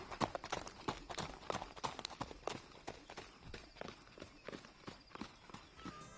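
Horse hooves climbing a long hill during a 100-mile endurance ride in Montana, a steady rhythmic clip-clop of hoofbeats on the trail, close and moderately loud, with no talk.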